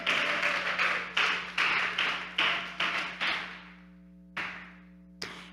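A church congregation at a Bible seminar claps in unison: about eight sharp, echoing claps in a steady rhythm, then two spaced final claps, over a sustained keyboard tone in a reverberant hall.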